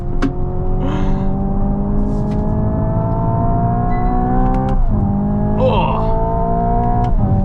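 Simulated engine sound in a 2025 Hyundai IONIQ 5 N electric car, a steady synthetic drone rising in pitch with small shift dips, pops and burbles at moderate loudness inside the cabin.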